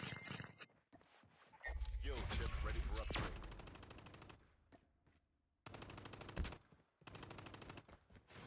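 Rapid automatic gunfire in a Battle Royale video game rattles in long bursts with short gaps, loud and dense, with a voice speaking briefly between volleys.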